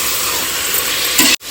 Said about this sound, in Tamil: எல்லாமே வந்து வதங்கி வரணும் இந்த தக்காளி